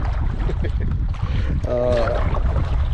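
A paddled boat moves along the Mississippi River in strong wind, with loud, steady wind buffeting, water sloshing against the hull and a brief voice partway through.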